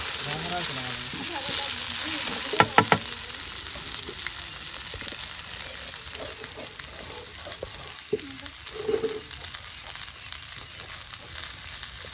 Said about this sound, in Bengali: শুকনা মরিচ দিয়ে দাও হলো আর পেঁয়াজ রসুন কিন্তু একদম লাল লাল করে ভেজে আপনার সেই পাতাগুলো দিয়ে দেওয়া হচ্ছে